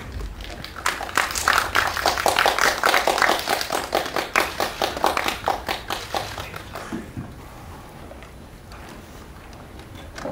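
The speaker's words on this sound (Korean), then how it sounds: "큰 박수와 함께 환영 부탁드립니다" Applause rises for a film director and two actors being welcomed at a Korean press screening and press conference, dense hand-clapping that holds strong for about seven seconds before fading into quiet room tone.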